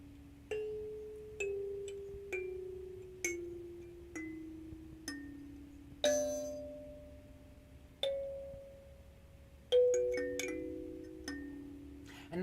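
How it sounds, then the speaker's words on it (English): A kalimba is plucked slowly, one bright metallic tine at a time, each note ringing and fading like a wind chime, roughly a note per second in a quiet room. "They actually say the kalimba is one of the most calming and soothing of all the instruments."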